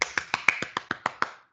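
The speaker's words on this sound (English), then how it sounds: "Let's give him a clap" About nine sharp, evenly spaced claps in quick succession from a single person nearby, crisp and close with a short decay, given as praise for a student in a programming lesson.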